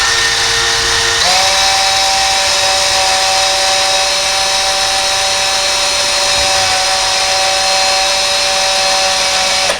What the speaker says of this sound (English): We're going to drill our pilot holes and we'll continue. We're just going to put it on here nice and easy and drill nice and slow.